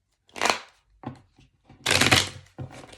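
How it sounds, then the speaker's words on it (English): Tarot cards shuffled by hand in bursts of rapid riffling and flicking, two short sessions and a longer loud one, with brief pauses between them, close up. "I'm gonna shuffle."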